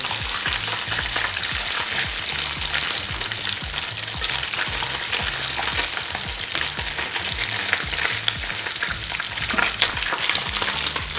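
Seabass fillet fries skin-side down in a hot pan, giving a loud, steady, dense sizzle that runs continuously without a break and with no voices.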